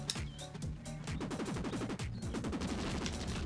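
Rapid gunfire from a weapon in the video game Buck Bumble, a fast, sustained stream of repeating shots over game noise, fairly quiet in the mix.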